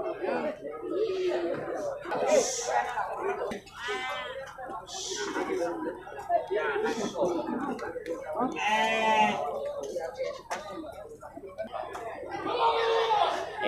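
Male crossbred goats at a livestock market give several bleats scattered through steady nearby crowd chatter, the calls rising out of the talk at intervals.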